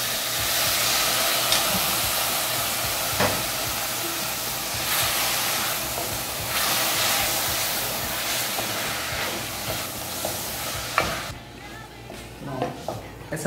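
Water hisses and sizzles loudly in a hot triple-ply stainless steel pan after cooking zucchini and bell pepper, a steady bright crackle that swells and then dies down toward the end.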